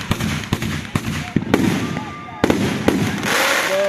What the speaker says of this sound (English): Because they're legally classified as flashbangs this time.